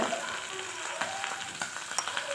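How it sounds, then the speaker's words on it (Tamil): Potatoes and capsicum sautéing in oil in a pan: a dense, continuous close sizzle with scattered light crackles and faint stirring taps. "இதையும் கொஞ்சம் நேரம் அப்படியே எண்ணெயில் வதக்கிடலாம்"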